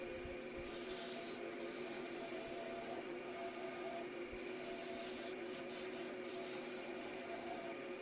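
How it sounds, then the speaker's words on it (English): Green softwood being turned on a wood lathe gives off a continuous rasping, scraping hiss over a steady motor hum, with slight pulses as the tool cuts, heard alone at a moderate distance. "Green wood cuts beautifully on the lathe, especially the softwood."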